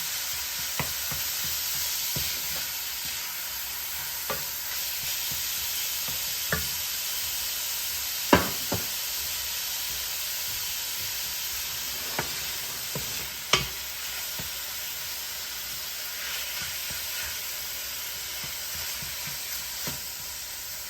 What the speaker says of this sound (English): stir that around until they all turn brown